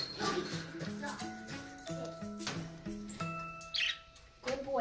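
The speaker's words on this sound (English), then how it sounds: "We're gonna let the birds out" Small pet birds, a budgie and a cockatiel, chirping and tweeting in quick repeated calls nearby, with some background household noise.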